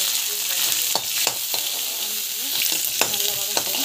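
Mustard seeds, cumin and split dals (urad and chana) sauté in hot oil for a healthy home recipe, giving a steady close sizzle with several sharp stirring scrapes and a few crackles, and no voices.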